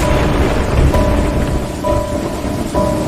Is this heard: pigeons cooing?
no